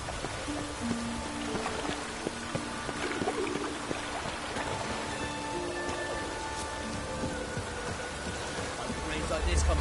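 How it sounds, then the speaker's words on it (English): Steady rainfall in The Witcher 3: Wild Hunt, a dense continuous hiss of drops on the ground with faint tonal game ambience and occasional distant voices mixed underneath, growing slightly louder toward the end. "Rains like this come sowing time."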